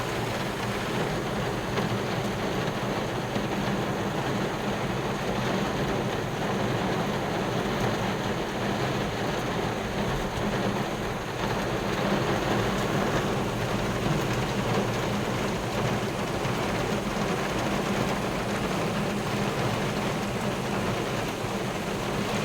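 Heavy rain pours down steadily and loudly in a continuous dense hiss, unbroken for the whole stretch, with a low rumble underneath and no voices.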